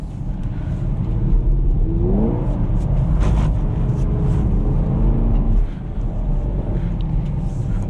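A Camaro SS with a six-speed manual drifts, its V8 engine revving loud and close with a rising and falling roar as the car slides, then easing off near the end.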